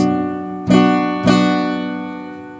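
Two strummed acoustic guitar chords, the second following about half a second after the first, each ringing out and slowly fading.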